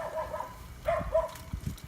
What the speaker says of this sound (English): you heard me tell the dogs to shut the hell up